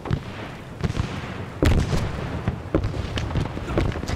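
A phosphorus grenade explodes in a first-person shooter battle against a Vietnam-era NVA headquarters, with a sharp loud blast amid a steady barrage of close gunfire and distant booms.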